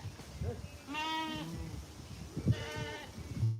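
Sheep and goats at a village livestock market near Dhuri in Sangrur district give two clear, drawn-out bleats, one after the other, over a low background murmur.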